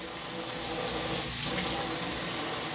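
A steady, soft stream of tap water runs for a few seconds as water is poured onto a plate, with no talking.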